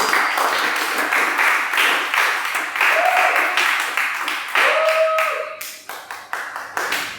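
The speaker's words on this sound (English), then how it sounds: "Please clap for her." Sustained crowd applause, many hands clapping steadily and fairly close, with a brief tonal chime and light murmuring underneath.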